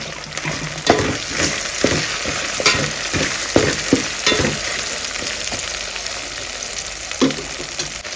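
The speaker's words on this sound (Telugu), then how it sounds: "చిన్న ఉల్లిపాయలు వేసుకొని బాగా అయితే వేయిద్దాం" Small onions sizzle in hot oil in a pan for a Rayalaseema-style chicken kushka, a steady close fry broken by repeated scraping knocks of a spoon stirring them, with no voices.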